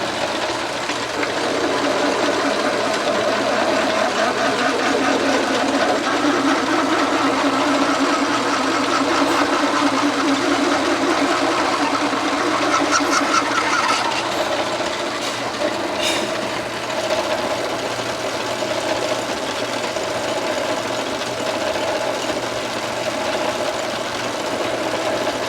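A newly acquired lathe runs steadily while an engine block is being machined, giving a continuous loud mechanical hum and whir with a faint higher metallic scraping midway, no talk.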